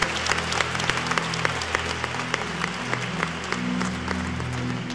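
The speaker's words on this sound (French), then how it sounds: "We clap unto the Lord" A church congregation clapping together during a sermon, sustained loud applause from a large crowd with a droning tone underneath.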